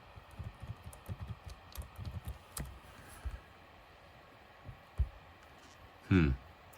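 Fn keys pressed on the keyboard of an HP 2133 Mini-Note laptop: a quick run of soft, close key clicks, then a few scattered taps and a louder thump near the end.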